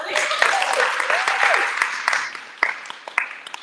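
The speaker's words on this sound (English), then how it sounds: "Clap it up, clap it up." Audience applause at a gym grand opening, a dense crowd clapping with voices and cheers over it, tapering into scattered claps toward the end.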